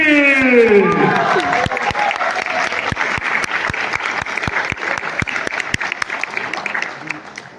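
Audience at a stage play breaking into steady, dense applause for an actor, sustained clapping with a few sharp claps standing out, after a voice trails off at the start.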